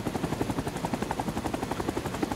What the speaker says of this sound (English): So the attack helicopter, the Cobra, is the most devastating weapon that the Americans have by far.